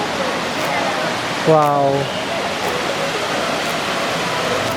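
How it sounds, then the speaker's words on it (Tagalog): The Tumalog Falls waterfall in Cebu rushes as a steady, broad hiss that fills the whole clip, with one brief exclaiming voice briefly rising over it. "nandito na kami ngayon sa entrance ng Tumalog Falls"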